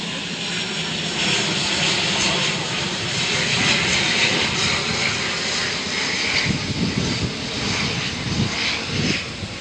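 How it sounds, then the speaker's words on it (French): An airplane arriving from Rodrigues passes overhead in rainy, stormy weather on Mauritius, a loud continuous engine roar that swells and holds steadily throughout, with rain noise beneath. "L'avion qui vient de Rodrigue."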